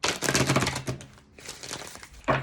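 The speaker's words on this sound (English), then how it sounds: "One more shuffle." Tarot cards being shuffled by hand, a dense riffling patter of quick card snaps in two bursts with a short lull between, close and fairly loud.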